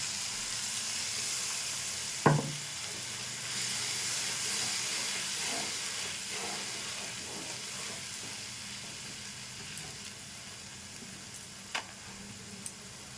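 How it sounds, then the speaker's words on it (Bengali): Water poured into frying spice paste for a vegetarian curry leaves a steady broad sizzle and hiss of simmering, with a couple of faint clinks over the continuous bubbling. "এবার আমি পরিমাণ মতো জল দিয়ে দেবো।"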